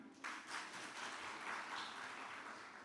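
A conference audience claps briefly to vote, a quiet, scattered patter of applause from a modest number of hands heard from a distance.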